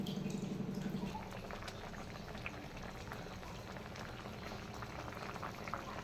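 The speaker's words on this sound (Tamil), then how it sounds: "குழம்பு கொதிக்குது." A pot of mushroom curry bubbling at a steady boil, a continuous soft gurgling and popping close by, with no voices.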